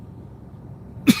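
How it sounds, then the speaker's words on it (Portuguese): A single sharp cough from a rideshare driver recovering from a cold, bursting out close and loud after a stretch of quiet cabin hum. "eu tô com a tosse ainda"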